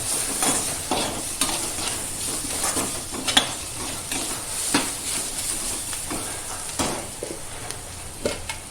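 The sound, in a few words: green gram frying and being stirred in a pan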